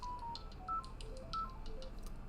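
Phone tones during a live cricket stream, a quick series of electronic dial beeps in a stepped melodic run, moderately faint over a steady low hum.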